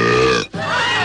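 A loud, close burp, guttural and drawn out, cut by a brief gap in the middle before rumbling on, with no other sound around it.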